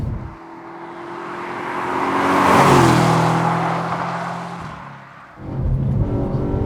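Audi B8 RS4 petrol V8 accelerating on a road, a steady engine note swelling to a peak and easing off, then picking up again near the end, with no talk.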